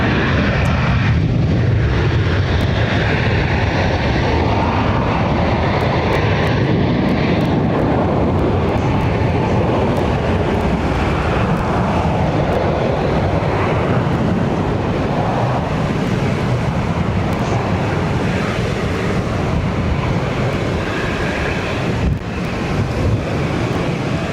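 An Air China airliner takes off at Barcelona airport, its engines a loud, continuous jet roar with wind buffeting the microphone, sustained at close range for the whole stretch.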